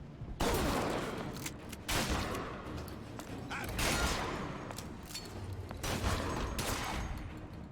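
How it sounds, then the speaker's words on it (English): Shotgun blasts fired at point-blank range in BioShock Infinite, Burial at Sea, several loud booming shots spaced a second or two apart amid chaotic combat noise, close and forceful. "Can't believe a shotgun at fucking point blank range doesn't do a damn thing."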